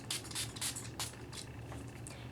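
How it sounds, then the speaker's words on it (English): Makeup setting spray is misted from a pump bottle onto a face as the last step of a full makeup routine, giving several short airy hissing squirts in an uneven rhythm, close and fairly quiet, with no talking. "spray the makeup setting spray on top of everything once that it's done"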